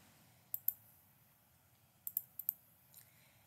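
A computer mouse clicks while a document is edited in MS Word: two quick clicks, a pause, then a cluster of four crisp clicks and a fainter last one, close and quiet against a low room hum.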